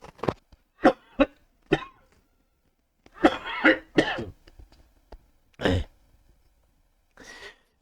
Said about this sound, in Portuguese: Me perdoe aí pela tosse.